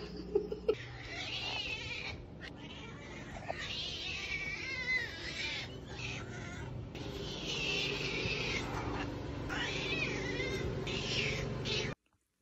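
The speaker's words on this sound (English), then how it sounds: "Someone come get this cat." A cat meows loudly and insistently up close, repeated drawn-out cries filling most of the span with brief pauses, indoors beside a person trying to relax.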